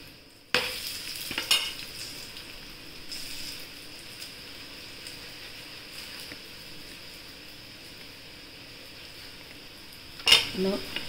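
A bottle gourd paratha frying in oil on a pan, a faint steady sizzle with a few sharp clanks of a utensil near the start and again at the end.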